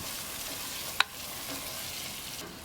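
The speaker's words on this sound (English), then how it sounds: "you can see that sort of frying in there, getting all those spices blended into the pumpkin" Low, steady frying hiss of spiced pumpkin puree in a pan over moderate heat, with one sharp utensil clink against the pot partway through.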